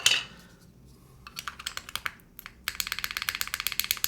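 Mechanical keyboard fitted with GMK keycaps being typed on: rapid, crisp clacky keystrokes close up, a short burst then a pause, followed by a steady run of even, evenly spaced taps.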